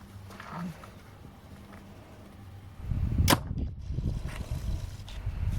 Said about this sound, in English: Let's go ahead and shoot it through.